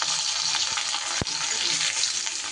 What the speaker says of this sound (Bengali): এবার এই তেলেই দিয়ে দেব বেগুনের টুকরোগুলো।